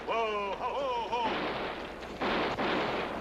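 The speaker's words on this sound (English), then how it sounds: "we were surprised to hear gunshots just ahead of us" Gunfire in a 1974 western film: a wavering high cry opens, then heavy, loud rifle shots crack twice in quick succession over a dense, continuous battle-like roar.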